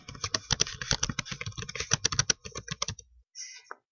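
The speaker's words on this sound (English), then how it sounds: "I'm going to start to type in what I want written down for each slide." Rapid typing on a computer keyboard, a dense run of close, crisp key clicks that slows and stops, followed by a few final taps, with no voices.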